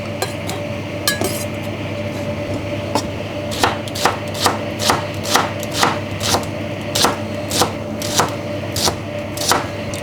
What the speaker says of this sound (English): we cut the onion into small pieces